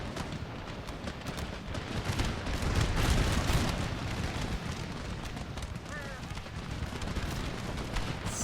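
Massed infantry musket fire in Empire: Total War, a dense, steady crackle of volleys. A sea battle in Martinique rumbles under it, with scattered booms and a voice that talks over the din.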